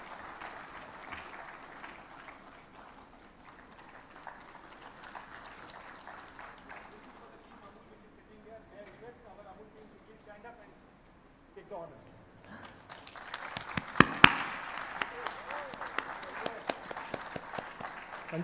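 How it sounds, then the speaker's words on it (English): An audience breaks into applause near the end, loud scattered clapping rising after a stretch of quieter murmuring and movement. "A big round of applause for him also."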